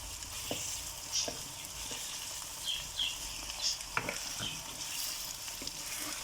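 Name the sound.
chicken frying with spices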